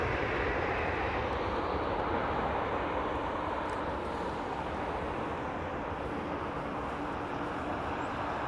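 A Lufthansa airliner passing overhead, its engines a steady broad roar that stays loud and even throughout, with no voices.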